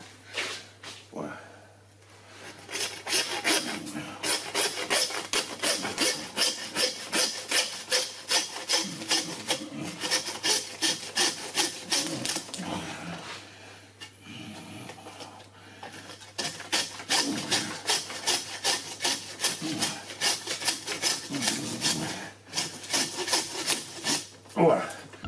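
A hand saw rasps back and forth in fast, steady strokes through the meat and bone of a whole pork carcass, with a pause midway before the sawing resumes close up.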